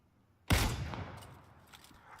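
A single loud Kar98 bolt-action rifle shot in the battle royale game PUBG, a sharp sudden blast followed by a long rolling echo that slowly fades over about two seconds.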